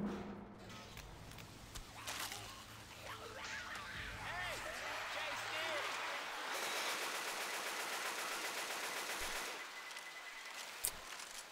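Rapid bursts of gunfire from the zombie shooter Left 4 Dead 2, dense and continuous through the clip alongside other game effects, with someone talking over it.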